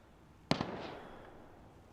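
A single distant gunshot in the DayZ survival game, a sharp crack with a quick echo that decays into a faint, wintry background, with no talking.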